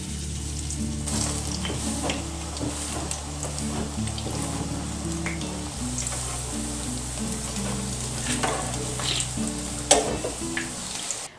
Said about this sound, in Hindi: इसी तरह जी हम बाकी जो मसाला है उसको भी इसी तरह हम फ्राई करेंगे।